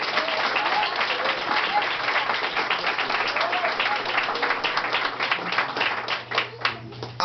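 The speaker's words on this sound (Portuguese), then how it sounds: "Você pode adorar o Senhor com as suas palmas bem lindas para Jesus" A church congregation claps together in a dense, continuous wash of applause, steady for several seconds, with voices faintly underneath, then thinning into a few separate claps at the end.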